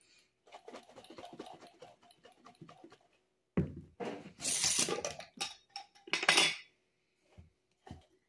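Someone shakes a lidded jar of lemon balm extract in short, clattering bursts with pauses between them. Faint ticking and rattling come first, then louder glassy jostling.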